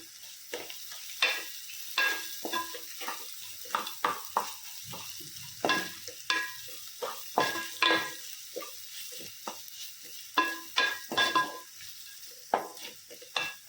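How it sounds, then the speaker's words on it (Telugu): Onions with ginger-garlic paste frying in oil for a Telugu aloo masala curry. A spatula stirs and scrapes the pan in quick, repeated strokes over a soft, steady sizzle, close up, with no voices. "ఉల్లిపాయలు వేగిపోతున్నాయి కదండి. ఇప్పుడు అల్లం వెల్లుల్లి పేస్ట్ వేసుకున్నామండి."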